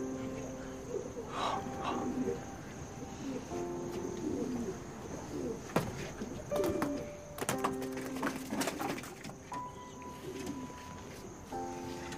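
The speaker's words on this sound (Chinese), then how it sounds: "这也不知哪来了一只鸽子，腿受伤了" An injured pigeon with a hurt leg coos softly amid a chirping outdoor bird and insect background, with occasional clatters and a low tonal hum throughout.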